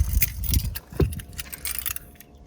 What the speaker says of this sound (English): we'll put the key in the ignition